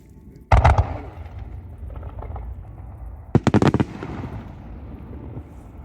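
Fireworks burst at the Noshiro port festival in Japan in two loud volleys of sharp rapid cracks, the second a quick crackling string, with lingering rumble and crowd murmur between.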